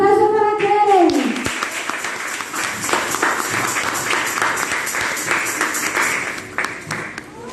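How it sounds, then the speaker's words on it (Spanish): A church congregation breaks into applause for a woman introduced to preach at a service, a broad, steady wash of many hands clapping that follows a brief spoken line and carries on for several seconds. "Un aplauso para Keren"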